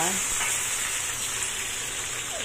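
Garlic fries in a pan with a continuous, even sizzle that crackles close up, alone with no voices.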